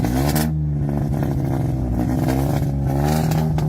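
A Maruti 800 rebuilt as a Lamborghini Aventador replica idles with a steady, loud engine drone and a low rhythmic throb, close by and continuous, with no talk over it.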